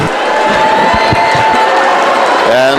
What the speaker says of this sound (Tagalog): this large crowd, weekday crowd at the arena in San Juan